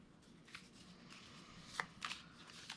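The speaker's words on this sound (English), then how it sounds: "We shuffle them together, or shuffle them" Cards for a fantasy board game are shuffled together softly, a faint riffling patter with several brief crisp snaps, heard alone in a quiet room.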